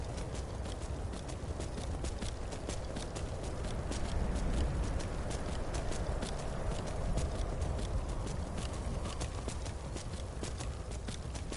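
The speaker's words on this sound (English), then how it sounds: "if you keep on riding Arvak past the spell's duration, Arvak won't dispel until you get off the horse" Hooves clop in a steady, quick rhythm as the spectral horse Arvak is ridden in Skyrim. The beats are close, even and continuous over quiet game ambience.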